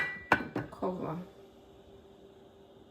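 A metal lid set onto a cooking pot of stewed peas with pimento seed, making two or three quick clanks and a short rattle, fairly close, then a quiet kitchen hum.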